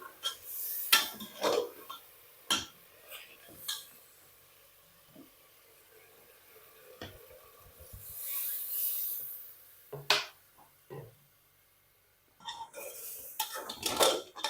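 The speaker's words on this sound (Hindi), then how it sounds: "थोड़ी मिकदार में पानी शामिल कर लेने के बाद मैं इसे अच्छी तरह से मिक्स कर लूंगी" A spoon stirs chicken and added water in a pressure cooker, making scattered metallic clanks and scrapes against the pot with quiet pauses and a wetter swish midway.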